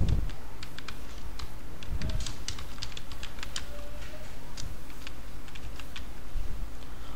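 Continuous typing on a computer keyboard, a quick run of light, crisp key clicks close by over a steady background hum, with no voices.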